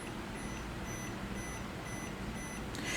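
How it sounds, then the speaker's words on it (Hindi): Low-voltage alarm from a small battery capacity indicator voltage meter, a quiet, thin beep pulsing steadily about once every half second over a dense broadband hiss, faint rather than loud. "यहाँ पर एक साइन शो हो रहा है और यहाँ पर एक बीप आपको सुनाई दे रही है"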